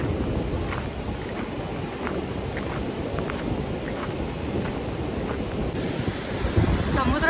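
Sea waves at Ladghar beach in Dapoli wash in a continuous low roar with wind buffeting the microphone, a dense, steady surf sound up close.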